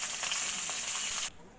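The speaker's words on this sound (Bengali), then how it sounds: "মাছ আমার লাল লাল করে ভাজা হয়ে গেছে" Fish pieces frying in a pan of hot oil, a dense, even sizzle heard up close that cuts off abruptly near the end, leaving near silence.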